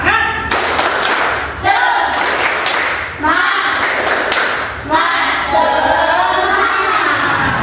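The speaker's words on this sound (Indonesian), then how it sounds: "Ayo, tepuk semangat." A classroom of children performs the rhythmic 'tepuk semangat' clap, with loud, patterned bursts of clapping and thumping in several phrases, mixed with their excited shouting voices throughout.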